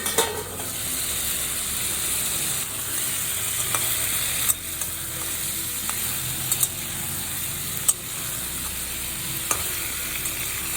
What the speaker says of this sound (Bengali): ঝিঙেটা একটু নাড়াচাড়া করে মিডিয়াম ফ্লেমেই আমি ঝিঙেটাকে একটু ঢেকে দেব।